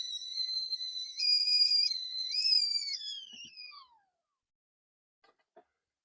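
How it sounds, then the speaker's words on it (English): A teapot whistles shrilly on an open fire, with wavering, multi-toned pitch for about four seconds, then cuts off, leaving near silence with a couple of faint clicks. "That's the whistle you want to hear."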